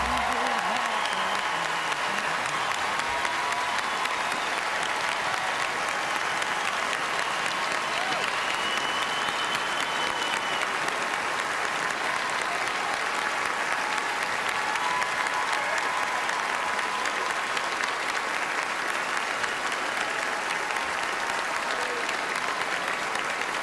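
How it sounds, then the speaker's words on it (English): Sustained applause from a large audience at the 2016 ACM Awards, dense and steady, continuing loudly for over twenty seconds without a break. "to give her a big round of applause"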